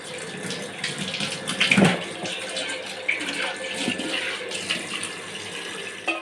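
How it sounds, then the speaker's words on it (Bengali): Pieces of deshi goat mutton, over a kilo with fat, are rinsed under a running tap, with a steady close rush of water, a few splashes and handling bumps throughout. "এদিকে মাংস ধোয়া জোরদার চলছে"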